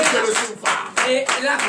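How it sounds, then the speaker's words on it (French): A congregation at a morning prayer service claps in short, rhythmic bursts, several loud sharp rounds close by with brief pauses between them. "Donnez l'acclamation à Jésus."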